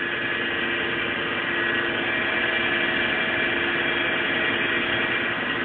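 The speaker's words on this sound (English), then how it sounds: "Here's the transformers starting to wind down." Transformers of a Thyssen-Krupp SKC 34 38.5 cm cannon winding down, giving a loud, steady, unbroken electrical roar and hum that holds at an even level throughout.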